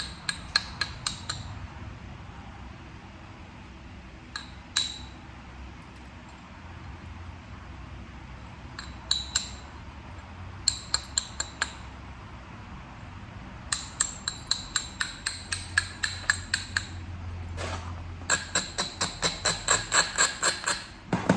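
Sharp percussive strikes of a flintknapping tool on Tallahatta quartzite while a hinge is removed, scattered taps early on, then quick bursts of clicky, glassy hits in dense runs, close and alone over faint low background.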